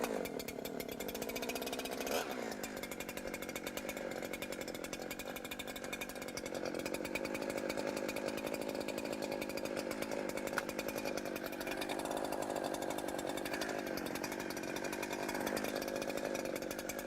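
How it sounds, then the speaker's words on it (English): A chainsaw runs steadily during field maintenance after carburetor adjustment, its loud, close engine buzzing continuously with slight shifts in revs and a brief hesitation. "I'm going to start the saw"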